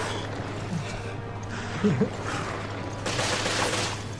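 Gunfire in the co-op game Resident Evil Revelations during a boss battle, a dense low rumbling barrage with a sharper burst of shots near the end, mixed under a player's voice.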